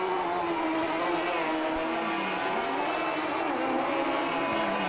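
RX150 rallycross cars racing at Mondello Park in the British Rallycross Championship, their engines droning and revving at a distance in a steady, continuous roar with no talk.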